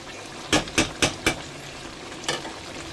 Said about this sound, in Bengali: এবার ভালো করে এটাকে কষাবো, তারপর জল দেবো।